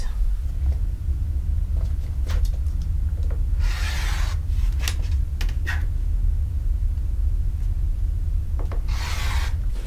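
Fabric fat quarter being cut into strips with a rotary cutter against a ruler: a few scratchy rolling strokes and light taps over a steady low rumble, close up, with no talking.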